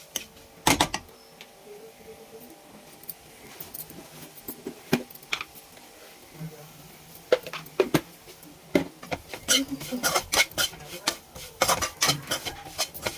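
Bitter gourd fry being stirred with spice powder in a pan, scattered metallic clinks and scrapes of a spoon against the pan, sparse at first and then quicker, close and fairly quiet.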